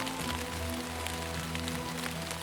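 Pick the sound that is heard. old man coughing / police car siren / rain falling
rain falling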